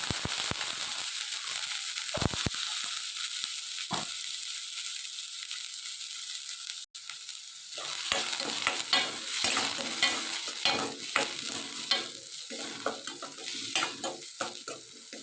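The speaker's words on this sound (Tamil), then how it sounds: "இந்த வரமிளகாயும் சேர்த்து நல்லா வெங்காயத்தையும் நல்லா பொன்னிறமாக வர வரைக்கும் வதக்கிக்கலாம்" Chopped onion with cloves, cinnamon stick and fennel seeds sautéing in a pan for a Tamil chicken dish, a steady close sizzle broken by scraping stirs, with a brief gap near the middle before the frying and spatula clatter resume.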